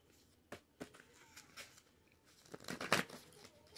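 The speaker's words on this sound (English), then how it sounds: "Let me shuffle these." Playing cards being shuffled close by, a few sharp riffling and snapping bursts spaced apart, the busiest flurry near the end, faint overall in a quiet room.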